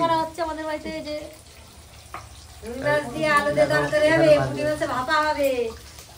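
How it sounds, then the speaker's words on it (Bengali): Fish sizzles as it fries in a pan in a home kitchen, with dal cooking nearby. A steady hiss sits underneath people talking throughout. "এখানে মাছ ভাজাভাজি করছে, মাছের ঝোল হবে"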